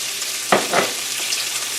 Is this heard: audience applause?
no